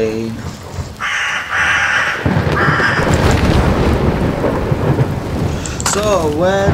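Rain and thunder from a video game, a steady wash of rain with rolling rumbles, joined by cawing crows and a brief musical flourish near the end.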